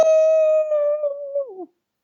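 A person imitates a hound dog howl with one long, sustained, steady wail that wavers and drops in pitch at the end, close and loud, with no other sound.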